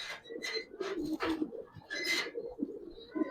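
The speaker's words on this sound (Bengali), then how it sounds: "চুইটাল কবুতর।" Giribaz pigeons at a market stall make repeated soft, throaty cooing calls, fairly close and steady across the whole stretch, with no talking over them.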